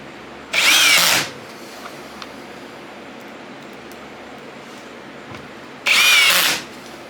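Power drill driving screws into wood while building a table saw sled, clutch set to limit depth: two short, loud whirring bursts about five seconds apart, with quiet room tone between them.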